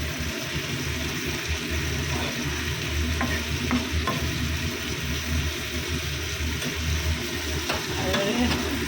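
Leafy greens sizzling and frying in a pan, a steady close crackle with occasional scrapes and clicks of stirring, no voices.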